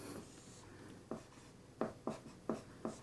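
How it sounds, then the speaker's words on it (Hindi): Chalk or marker strokes on a classroom board during a Hindi-language biology lesson, a handful of sharp scratchy taps and short scrapes spaced unevenly, fairly close, with no talking. "सबसे पहले हम यहाँ पे लिखते हैं"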